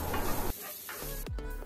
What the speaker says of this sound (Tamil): இப்போ கடலை மாவு வறுப்பட்டதுக்கப்புறமா 2 கப் பொடி பொடியாக நறுக்கின தக்காளி சேர்த்துக்கலாம்.